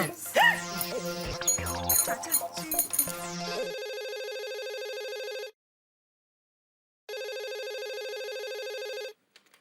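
A telephone bell rings loudly in two long bursts separated by a pause, following a brief busy musical flourish at the start.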